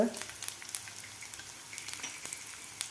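Ginger, asafoetida and spices frying in a pan make a continuous fine, crackly sizzle, fairly quiet, scattered with small spits and pops and a faint stir at the start.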